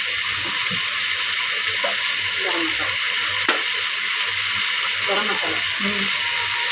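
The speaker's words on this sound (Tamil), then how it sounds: "கரம் மசாலா இதெல்லாம் சேர்த்து நல்லா நம்ம வதக்கிக்கிறோம்" Garam masala, Kashmiri chilli powder and other spices sautéed in hot oil for jackfruit biryani, a continuous close sizzle with scraping stirring strokes and a brief clink.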